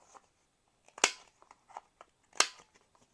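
Scissors snipping paper tags from old book pages, two sharp crisp cuts about a second apart with small rustles of paper handling between, close and quiet.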